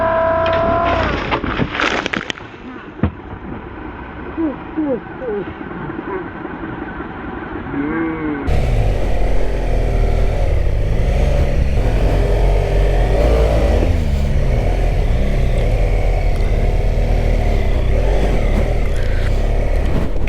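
A motorcycle ride, its engine rising and falling as it accelerates, first a revving passage with wind rush, then a louder steady roar of riding, with voices briefly heard early on.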